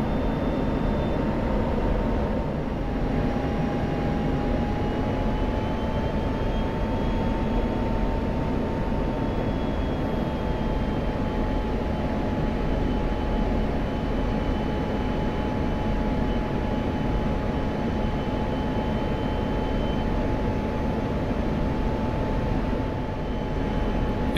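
An F-16C Viper jet engine in the DCS flight simulator gives a steady, loud, dense roar with a faint whining tone running through it, continuous and unchanging throughout, with no voices.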